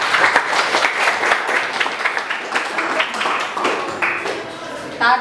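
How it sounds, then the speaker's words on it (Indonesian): A classroom group gives a burst of applause, dense clapping that goes on for several seconds with some voices mixed in. "Kasih aplaus dulu buat perokok."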